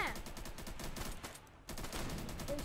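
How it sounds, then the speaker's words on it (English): Rapid gunfire from a strong gun in a zombie shooter video game comes in dense, continuous bursts, dropping into a short lull midway before resuming at full intensity. "And this gun is stronger."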